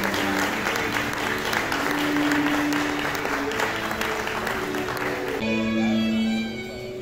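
Wedding guests applaud the groom's entrance at a ceremony, a sustained round of clapping from a crowd with a voice faintly under it and a musical tone near the end as the clapping fades.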